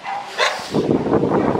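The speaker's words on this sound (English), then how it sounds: "Oh my god, listen to the dogs." Dogs bark and yip at a dog show, a few sharp barks over a busy background, fairly close and moderately loud.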